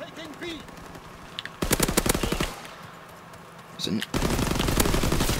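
PPSh submachine gun fire in a World War II multiplayer shooter at Monte Cassino, rapid automatic bursts in two loud strings with quieter battle ambience between them.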